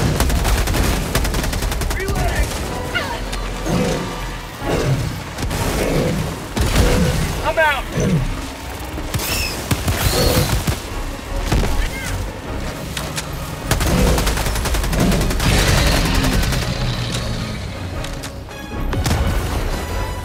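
Rapid gunfire from the Helldivers video game, bursts of automatic shots and booms running continuously and loud throughout, with players talking over the action.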